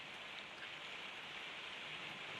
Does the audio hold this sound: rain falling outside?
yes